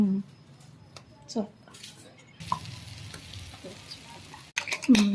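Eggs are beaten and mixed with green chilli and salt for a masala omelette. Intermittent close scraping and clicking strokes come in short bursts with quiet gaps between them, and a louder clatter near the end.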